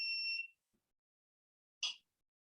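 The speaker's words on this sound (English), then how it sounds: "Heard a beep." Toaster beeping once indoors, a bright steady electronic tone lasting about half a second, followed after a pause by a brief, fainter electronic chirp.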